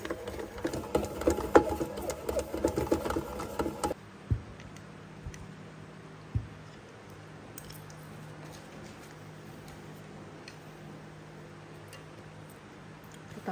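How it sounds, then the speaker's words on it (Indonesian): A bread machine kneads brioche dough for burger buns, giving a steady mechanical whir and rhythmic ticking, busy and fairly loud for the first few seconds, then settling into a quieter, even hum with occasional soft knocks. "Nah ini kita langsung ulangin aja di mesin roti ya"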